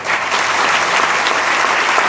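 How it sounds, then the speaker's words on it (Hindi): Audience clapping on cue at a gathering, a steady, loud burst of dense applause that fills the whole moment with no break. "मैंने कहा अच्छी ताली यीशु के लिए"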